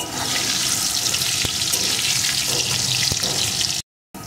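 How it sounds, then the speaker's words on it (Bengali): Potato pieces fry in hot oil for a village chicken curry, a steady close sizzling hiss with a few faint stirring clicks before a brief cut to silence near the end. "এখন আলুগুলো আমি লাল লাল করে ভেজে নেব।"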